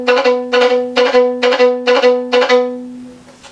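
Violins play bouncing ricochet bow strokes from a Rossini piece, imitating a horse's gallop in six evenly spaced bursts of rapid repeated notes, clear and close, then a short fading tail.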